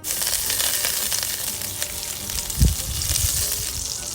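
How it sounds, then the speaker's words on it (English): Sage leaves dropped into a pan of melted butter and oil, giving a steady bright sizzle with a brief low thump partway through as something lands in the fat. "We're going to put the butter in as well as the oil. Allow the butter to melt, and in here we're also going to put some"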